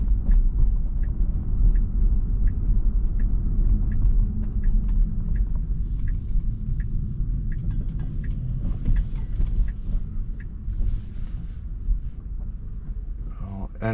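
A Tesla on Full Self-Driving rolls along with a steady low road rumble and muffled cabin hum, faint ticking over it, and a brief clatter at the end.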